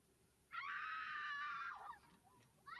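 A single loud, sustained human scream lasting over a second, offered as a stock sound effect in a film production scene, heard alone and then tailing off.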